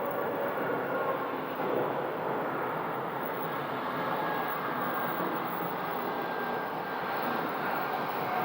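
An airliner taxis at Phoenix Sky Harbor airport, its jet engines giving a steady, loud broadband roar that holds evenly throughout, with no speech.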